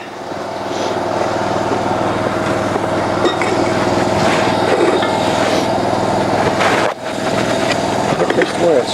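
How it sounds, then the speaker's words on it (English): Cold water jetter engine running steadily at a loud, constant drone close by, with a brief dip near the end, as a person talks over it. "I don't like to rev up the machine when I run this."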